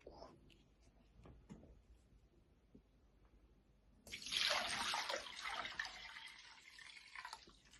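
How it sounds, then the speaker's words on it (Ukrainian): Water poured from a container into a bowl of seeds soaking for microgreens, a sudden steady splashing rush that starts midway and continues to the end, close and fairly loud, after a quieter stretch of faint handling noises. "Ось ось цю мисочку заливаю нашу водичку."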